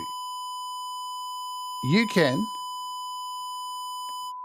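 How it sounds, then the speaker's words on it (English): A steady sine wave tone from the StrongSoft signal generator app on iOS holds throughout with faint upper partials, while a person speaks briefly over it midway. "create sine waves, triangles, squares, saws, or noise"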